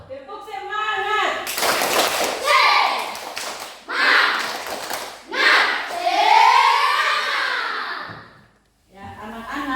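Children in a primary classroom perform a rhythmic clapping chant, bursts of hand claps interleaved with shouted, sing-song group voices, loud and close, with a short pause near the end before voices resume.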